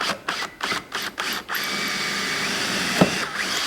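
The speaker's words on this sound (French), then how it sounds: "je vais prendre la petite mèche qui est fournie avec, et je vais pré-percer mon trou" A small supplied drill bit pre-drills a hole for a Clamex joint with a ZetaP2 setup: several short bursts of power-tool drilling in the first second and a half, followed by a steady close drone with a faint click near the end.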